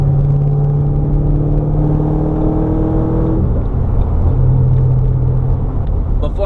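A gutted 2005-09 Ford Mustang with a Bassani axle-back exhaust and no seats or carpet rumbles with a loud, steady low drone, the pitch easing down midway and climbing again, sounding close inside the stripped cabin.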